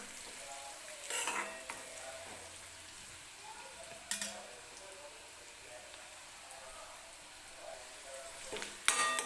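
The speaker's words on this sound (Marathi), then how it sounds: "तर कांदा व्यवस्थित आपल्याला भाजून घ्यायचा आहे तेलामध्ये." Onion frying in oil with spices for a dhaba-style egg curry, a soft steady sizzle close by, broken by a few sharp clinks of a spoon against the pan as it is stirred.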